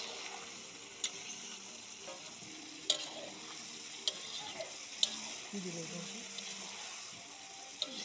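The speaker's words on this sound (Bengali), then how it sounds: "করে মাংস লাড়াচাড়া চলতেছে" Meat stirred in a frying pan with green chili, chili powder, cumin and coriander powder: a steady soft sizzle under scattered sharp clicks and scrapes of a spoon against the pan, close by.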